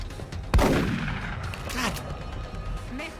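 Gunfire in the turn-based tactics game XCOM: one sharp, loud shot that rings out with a long decaying tail, followed by fainter rumbling and clatter.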